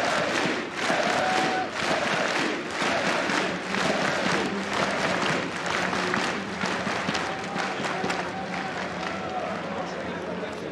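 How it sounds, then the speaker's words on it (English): Dense crowd applause and cheering fill a CS:GO esports arena as the audience rises in a standing ovation, a steady loud roar with a caster's voice talking over it throughout. "the whole crowd is a whole standing ovation"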